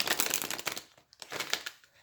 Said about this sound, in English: This is difficult to shuffle deck.